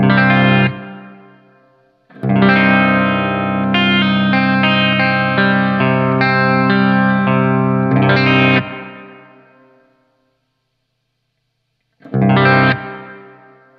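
Electric guitar chords through a Strymon Big Sky hall reverb pedal ring out loud and sustained, swelling and decaying into a long wash before another chord strikes.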